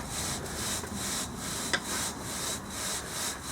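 A coring tool scrapes and rubs down through sand in a carrot-growing container at an allotment, making a gritty grinding sound in repeated pulses with short gaps between pushes, close and steady.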